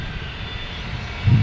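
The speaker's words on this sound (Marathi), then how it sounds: "प्लेन आलं बघा बघून घ्या हे बघा प्लेन आता उतरणार" A fixed-wing airplane descending to land in Mumbai, a low steady engine rumble heard from a distance that swells slightly louder near the end.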